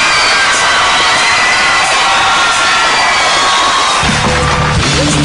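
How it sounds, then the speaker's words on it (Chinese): Studio audience at a television variety show bursts into loud, sustained applause and cheering with whoops, dense and close, as a music cue enters near the end. "来掌声鼓励一下哦！"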